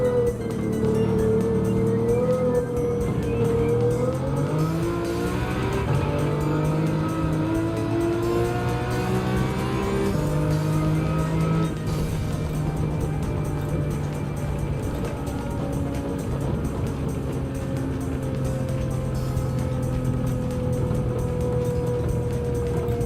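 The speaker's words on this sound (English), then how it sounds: "Sounds good too, the V12." Lamborghini V12 engine in the racing game Gran Turismo 7, a loud, steady drone that rises and falls in pitch through gear changes, continuous with no pauses.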